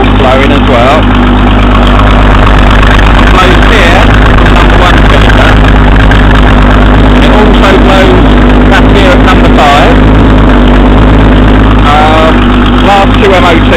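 Ford Mustang with a 3.3 litre straight-six engine idling steadily under the bonnet, a loud, continuous low rumble with exhaust manifold flow audible, a voice talking over it throughout.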